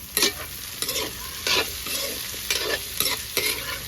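Food frying in a pan in a village kitchen, with steady sizzle and repeated scraping stirs in a loose rhythm, close and fairly loud, no voices.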